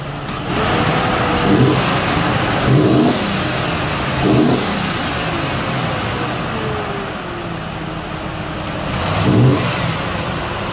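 A Chevrolet Trailblazer's 5.3L V8 engine with a patched exhaust revs up briefly several times, each burst rising and falling over a steady rumbling idle, close by.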